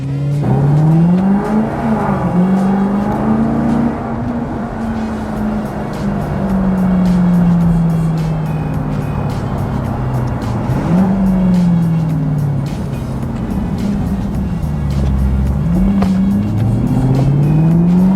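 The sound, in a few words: Maserati Gran Turismo S engine while driving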